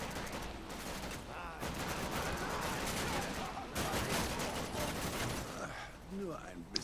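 Dense gunfire from The Darkness 2 shooter game, with rapid bursts and volleys crackling over a busy combat backdrop and a few pauses, while players talk over the action.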